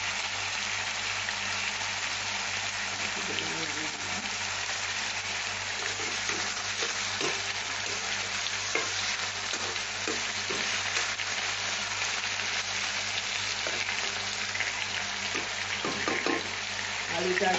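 Salted potato pieces sizzle steadily in a frying pan, a constant close crackle with occasional soft clinks and scrapes of stirring.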